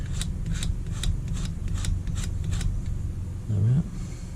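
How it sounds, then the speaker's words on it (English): Wooden arrow shaft being back scraped with a blade, a rhythmic series of short, dry rasping strokes, close and moderately loud, about eight scrapes in steady succession. "I'm just going to see if I can just back scrape that equally."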